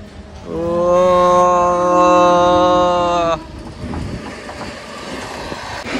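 A train's long, loud horn blast sounds for about three seconds, then cuts off, leaving a rumbling rolling noise.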